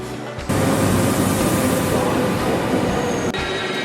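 A Swiss train between Bern and Lucerne runs loudly and steadily on its rails, a dense rumble of wheels and carriage noise that starts abruptly and holds for about three seconds before easing to a quieter cabin hum.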